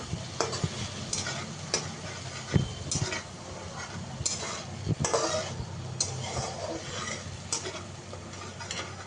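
Onion paste frying in a pan for a potol chingri curry, a steady sizzle broken by repeated scraping strokes of a spoon as it is stirred, close and moderately loud.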